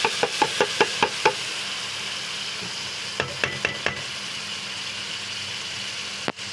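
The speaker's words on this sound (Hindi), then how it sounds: "अब इसको भी इसके अंदर हल्का सा हम फ्राई करेंगे और इसके साथ हम डाल देंगे टमाटर।" Tomato paste frying in a pan for an aloo pakora curry, a steady low sizzle under repeated sharp clinks of a spoon stirring against the pan in two quick bursts, with one louder knock near the end.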